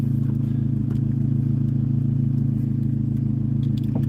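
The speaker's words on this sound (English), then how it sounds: "hear that turbo whistling through the exhaust." A turbocharged car in sport mode with the exhaust valve open drones steadily with a low engine rumble and faint whistle while driving, constant and close without variation.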